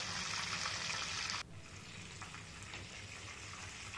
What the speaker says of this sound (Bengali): এই পিঠটাও ভালো করে ভেজে নেব।